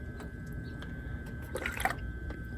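Small wet gurgles and bubbly squelches as a coolant hose is squeezed on a 2008 Toyota Tacoma to burp trapped air, a short cluster of bubbling near the middle over a steady low engine-bay hum.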